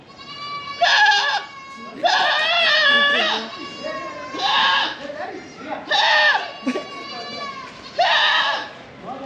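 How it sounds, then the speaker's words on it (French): Goats bleat loudly and near in repeated bursts, about five wavering cries spaced through the clip, with voices murmuring in the background, outside a hotel at Jaisalmer Fort, India. "Quand devant ton hôtel, t'as les chèvres."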